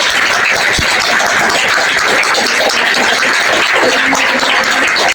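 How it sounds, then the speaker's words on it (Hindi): Steady, dense applause from a village chaupal gathering in Loha Khurd, Jhajjar, Haryana, sustained loud and unbroken for about five seconds with no talk over it. "चलिए एक बार जोरदार तालियां"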